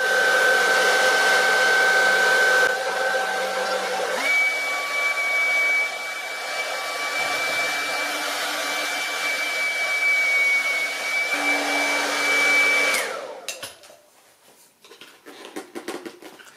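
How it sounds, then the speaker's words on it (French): A hair dryer blows steadily and loudly at close range, warming the adhesive of a Sena 10C Pro camera mount stuck to a helmet, its tone shifting slightly as it is moved, then switching off near the end, leaving faint handling noises. "je crois que je devais prendre un sèche-cheveux pour ramollir un peu la colle"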